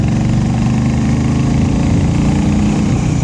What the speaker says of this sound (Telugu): నాకైతే ఆ ఎగ్జాస్ట్ సౌండ్ చాలా బాగా నచ్చింది.